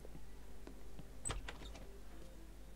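A car door in the video game GTA San Andreas swings open by itself with a short mechanical clunk and whir near the middle, over a steady low engine-like hum and game background.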